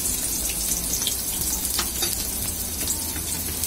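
Onion slices and red chili sizzling in hot oil in a pan, a steady, dense crackle and hiss that runs without a break, close and fairly loud, with faint stirring.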